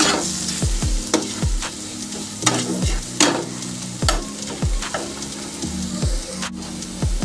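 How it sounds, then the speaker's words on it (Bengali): Grated ginger and garlic frying in a pan for a Bengali soyabean and potato curry, with steady close sizzling broken by about a dozen sharp spoon scrapes and knocks against the pan. "আদা রসুনটাকেও ভালো করে কষিয়ে নেব"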